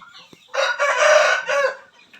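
A rooster at a chicken shop in India crows loudly and close, one long full crow with a short tail, after faint clucking.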